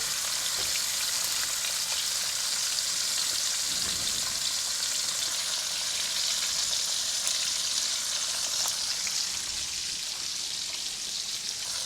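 Bacon strips, folded at both ends, sizzle steadily in a hot pan, a dense even crackle that holds unbroken from start to finish with no talking.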